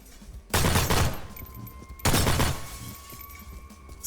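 Two loud bursts of gunfire in Postal 4, each a rapid volley ending in shattering window glass, followed by a fading ringing tail and quiet game ambience between them.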